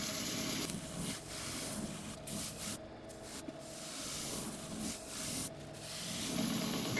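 Steady rubbing as abrasive paste is worked by hand into a resin and sequoia wood platter, a continuous close scrubbing texture with small surges, alone without talk.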